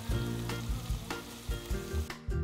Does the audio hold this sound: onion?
yes